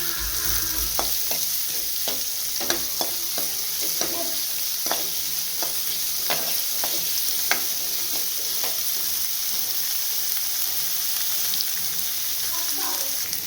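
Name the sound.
onions frying in oil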